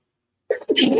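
A single loud, close human sneeze bursting out after a second of silence, a short sharp intake then an explosive noisy release.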